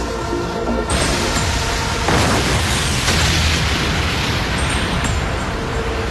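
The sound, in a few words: explosions in the Bakugan cartoon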